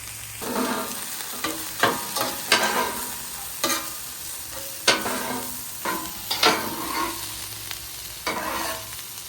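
Beef chow mein with bean sprouts sizzles on a Blackstone griddle, a steady frying hiss broken by repeated scraping and tossing strokes of a spatula at an irregular rhythm, close by.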